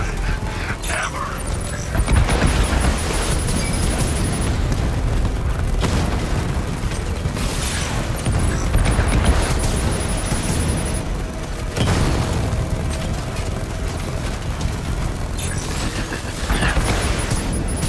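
Continuous heavy weapon fire and booming explosions in the Batman Arkham Knight battle against the Cloudburst tank, loud dense blasts and bursts recurring every few seconds across the whole stretch, with occasional game voice lines mixed in.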